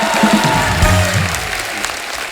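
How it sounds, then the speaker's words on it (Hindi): A comedy talk-show studio audience claps for arriving guests, a loud burst of applause with a voice briefly over it at the start, tapering slightly toward the end. "जोरदार तालियां हमारे मेहमानों के लिए"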